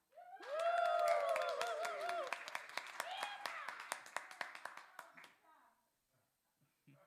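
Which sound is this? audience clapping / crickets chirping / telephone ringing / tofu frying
audience clapping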